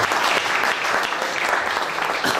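Steady applause from a seated audience at the Kapetan Miša Anastasijević award ceremony in the Braničevski district, a continuous wash of many hands clapping at even loudness throughout, with no voices.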